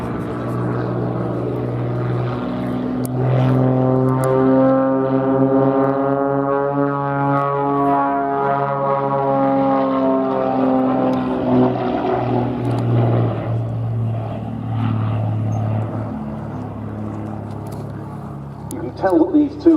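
Red Bull Matadors aerobatic propeller aircraft perform at Duxford, a droning engine tone that swells and bends in pitch as a plane passes and rolls, with a commentator talking over it.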